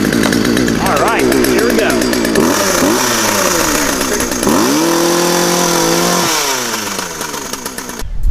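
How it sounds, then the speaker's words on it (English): A loud chainsaw roars close by as it cuts into oobleck, its engine revving up and down and then settling into a steady whine, with a person talking briefly over it. "it will get caught in the chainsaw blade"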